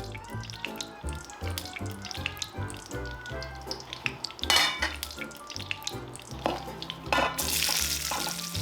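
Meat sizzles in a pan in its own pork fat mixed with chili oil while gochu japchae is cooked, a continuous crackling fry broken by stirring clatter and a louder hiss toward the end.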